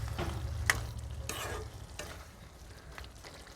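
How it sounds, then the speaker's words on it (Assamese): Pork cooking with colocasia in a pot, Assamese style, gives off a soft, steady bubbling and sizzling simmer, with a few faint stirring scrapes and no voices. "এয়া ধুনীয়াকৈ উতলি আছে"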